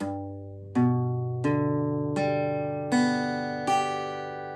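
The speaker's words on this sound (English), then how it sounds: "just strum one string at a time." Single guitar strings are plucked one after another, six distinct notes at an even pace, each ringing and fading as the next begins, with no talking.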